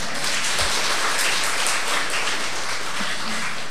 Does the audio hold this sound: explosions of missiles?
no